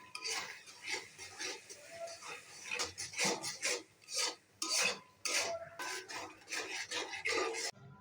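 Ground cumin, garam masala and salt stirred and fried in a pan for beef rezala, heard as repeated close scraping and rasping strokes in an irregular rhythm, moderately loud, with no talking.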